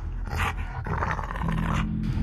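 Police dog Cliff barks and growls excitedly in a quick run of loud, close bursts that carry over a steady background rumble.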